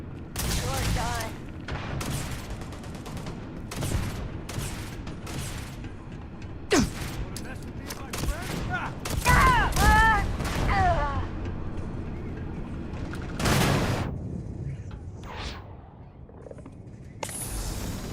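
Gunfire in the space game Starfield: a series of sharp, loud shots in irregular bursts across the stretch, mixed with brief voices and game sounds.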